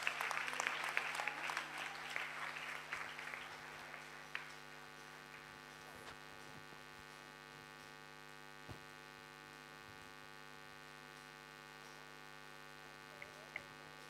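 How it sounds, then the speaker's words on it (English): A crowd applauds at an International Youth Day 2025 gathering in Osu, Accra, Ghana. The clapping is brief and dense at first, then fades within a few seconds, leaving a steady electrical hum that carries on alone. "why don't you put together a huge round of applause"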